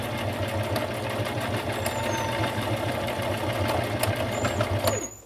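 A sewing machine stitches through many layers of fabric for a two-tone collar, running with a steady, even mechanical whir and rapid needle rhythm throughout, close and continuous.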